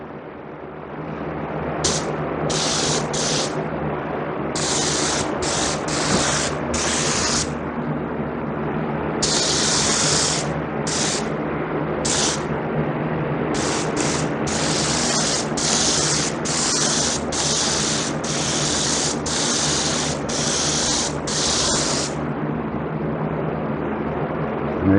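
An airbrush sprays a light coat of paint in repeated short bursts of airy hiss, some quick and some held for a second or more, close, over a steady low compressor hum.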